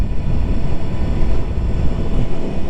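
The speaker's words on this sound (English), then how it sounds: "The wind's just flowing." Gusting wind buffets the microphone while riding a 2023 Sur Ron electric dirt bike across an open empty field, a loud low rumbling roar that swells and dips throughout.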